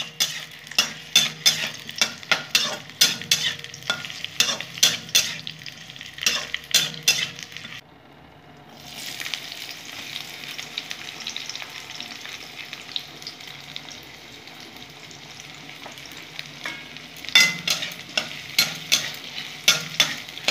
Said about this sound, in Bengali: পেঁয়াজ আর ক্যাপসিকামটা কেটে রেখেছি, এইভাবে একটু ভেজে নেব।